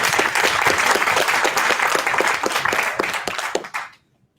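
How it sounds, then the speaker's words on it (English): An audience at a 1 Million Cups Fairfax startup presentation gives a full round of applause, dense and loud for about four seconds before tapering off quickly into silence. "Let's give them a round of applause."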